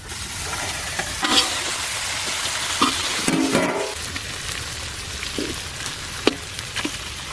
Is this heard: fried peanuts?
yes